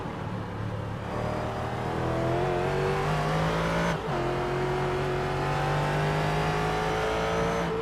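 A prototype GT race car in a sim racing game at Virginia International Raceway, its engine note dropping sharply as it brakes hard into a corner, then droning steadily at high revs, loud and close.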